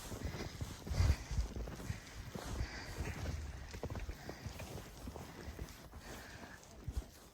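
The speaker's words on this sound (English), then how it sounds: "Don't be running horses into me, Sione, okay?" Horse hooves clop along outdoors in a snowstorm, a soft uneven patter of steps under steady wind noise, fairly faint and distant.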